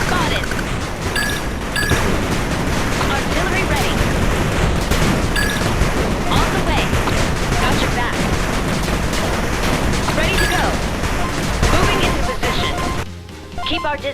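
Artillery and gunfire in the real-time strategy game 8-Bit Armies: a dense, loud, continuous barrage of booms and shots over about thirteen seconds before a brief lull, with game voice cues mixed in.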